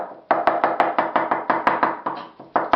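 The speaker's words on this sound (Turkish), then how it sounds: "İyice şöyle bıçağımızla patlıcanı inceltiyoruz" A knife chops steadily on a cutting board, thinning eggplant mixed with garlic, in a quick, even run of sharp, close taps with brief pauses.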